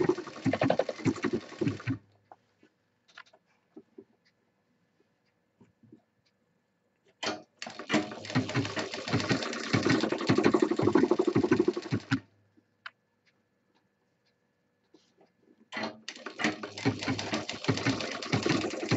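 A sewing machine stitches a handbag in three separate runs, each a rapid, steady mechanical rattle, with quiet gaps and faint clicks between them.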